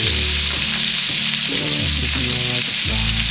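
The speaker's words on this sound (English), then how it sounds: "The one inside is okay for me to fry my shrimp." Shrimp frying in oil that has already been used for fish, giving a loud, constant crackling sizzle close up, with low bubbling pulses surging and easing underneath and no talking.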